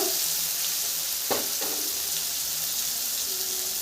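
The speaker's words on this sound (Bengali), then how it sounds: "এই টমেটোগুলো হালকা একটুখানি ভেজে নিই গ্যাস তেলে দিয়ে দিব" Tomatoes fry in oil in a pan with a steady, bright sizzle. A single stir or clink breaks in partway through, and no one speaks.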